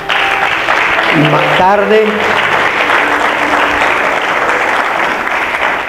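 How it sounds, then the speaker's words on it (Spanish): Church congregation clapping steadily at a Spanish-language service, a sustained wash of applause while a voice speaks and cries out over it, with tonal shouts early on. "dele un fuerte aplauso al Señor en esta preciosa"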